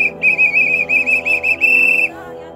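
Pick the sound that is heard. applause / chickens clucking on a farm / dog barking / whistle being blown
whistle being blown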